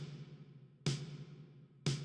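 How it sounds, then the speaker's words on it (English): Snare drum played on its own in a music production: two sharp, bright cracks about a second apart, each with a short decay, over a steady low hum. "so then we added a snare drum"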